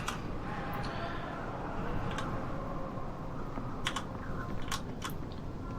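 Computer keyboard keys tapped during a session of Fallout Tactics: scattered sharp clicks, some in quick pairs, over a steady background hum, fairly close.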